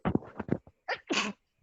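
A single close, clear sneeze bursts out after a couple of short breathy intakes, standing alone in a quiet room during a meeting.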